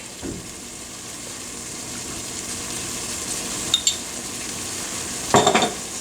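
Fresh garlic sizzling in melted butter in a pan, a steady soft hiss with a couple of sharp utensil clinks and a brief clatter near the end, no voices.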